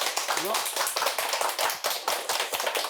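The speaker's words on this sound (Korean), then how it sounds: "신부님께 큰 박수 부탁드립니다." Applause from a lecture audience for a Catholic priest after his talk on the Book of Revelation, a steady dense patter of many hands clapping at close range, with a voice faintly audible over it.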